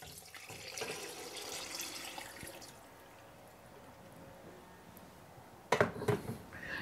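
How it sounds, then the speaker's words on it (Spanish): Water pours into a pot of mondongo soup with chicken broth and garlic, a faint running trickle followed by brief louder splashing near the end. "También vamos a agregar el agua."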